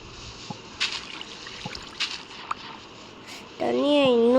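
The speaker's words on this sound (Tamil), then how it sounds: "தண்ணியை இன்னும் ஃப்ளோ பண்ண வைக்கலாம்." Water flows and trickles in the block-building game Minecraft. It is a soft, steady wash with scattered small drips, and a brighter warbling tone rises near the end.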